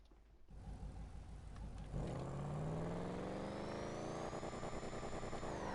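An off-road car in a video game revs up steadily, its engine note climbing in pitch and holding high, a lighter, less bassy tone than a muscle car, loud and close with no talk.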